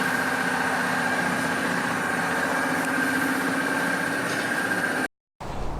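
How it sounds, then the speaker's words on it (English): A Nissan Skyline GT-R R32 engine idles steadily with a low, even exhaust rumble, close by, broken by a brief silent gap near the end. "And this exhaust does sound nice and healthy."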